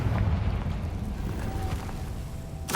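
Confringo blasting spell detonates in Hogwarts Legacy, a loud rolling explosion with deep rumbling and scattered crackles, ending in a sharp bright burst near the close.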